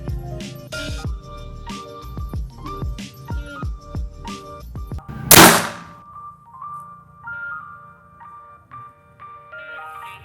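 A PCP air rifle fires once, a sharp loud crack standing out midway after a run of clanging metallic knocks and ringing tones, followed by quieter lingering tonal hum.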